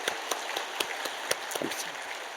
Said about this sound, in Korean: 뜨거운 박수로 우리 축복하십시다